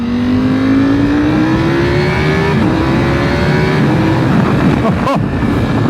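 Ducati V4 SP motorcycle with its V4 engine running while riding, a loud, steady drone whose pitch climbs gradually and shifts between gears, with wind rush throughout.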